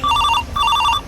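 Telephone ringback tone on an outgoing call, two short bursts of warbling electronic ringing separated by a brief pause, loud and close, with no talk over it.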